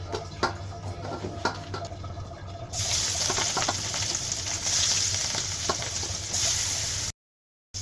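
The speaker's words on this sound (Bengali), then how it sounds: "মাছগুলো ভাজা হয়ে গেছে, এবার নামাই নিব" Rohu fish pieces fry in oil in a wok, a steady loud sizzle that brightens and intensifies midway, with a few scraping knocks of a spatula, before cutting out briefly near the end; no speech.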